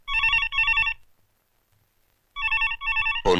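A telephone bell rings in two double bursts separated by a pause, loud and close, then a voice begins right at the end.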